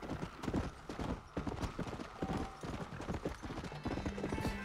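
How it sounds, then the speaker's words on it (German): Hooves of a horse in the Red Dead Redemption: Undead Nightmare video game clip-clop in a steady rhythmic gait, close and distinct, with a brief tonal game sound near the end. "Da oben können wir uns Pferd herbeirufen."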